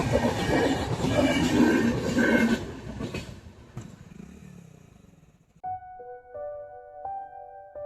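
A train passes on railway tracks nearby. A loud broadband rumble and clatter fades out over several seconds, then quieter tonal ringing sounds follow.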